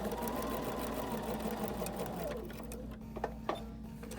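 Sewing machine stitching fabric for paper piecing, a steady continuous whir running strongly for about two seconds before slowing and fading, with a few faint clicks near the end.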